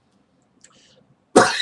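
After near silence, one loud, close cough bursts out abruptly at the end.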